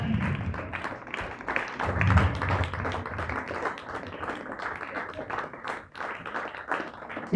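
Sustained, fairly loud applause from a crowd fills the air at a football tournament prize distribution, continuous clapping rising and falling slightly without a break.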